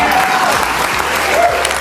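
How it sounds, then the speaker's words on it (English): TV studio audience applauding steadily, a dense continuous clapping at close, even loudness from start to finish. "Even Maher's left-leaning audience clapped for Republicans."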